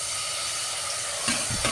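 Steady oil sizzle and crackle, bright and close, as sliced onions and bay leaves fry, with a couple of soft stirring scrapes near the end.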